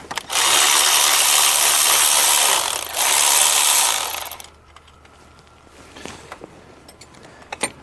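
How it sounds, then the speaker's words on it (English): A ratchet loosens a 10mm bolt on a Mercedes-Benz GL350 with an intermittent crank-no-start fault, giving a loud, fast, buzzing ratchet run for several seconds with a short break, then quiet workshop sounds. "So I'm going to undo this 10mm here first. So we're gonna undo this bolt over here."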